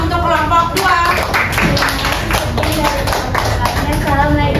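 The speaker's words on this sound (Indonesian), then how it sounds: "Oke, beri tepuk tangan untuk kelompok 2." Classroom applause for a student group after their presentation, a steady wash of many hands clapping at close range, with faint voices mixed in throughout.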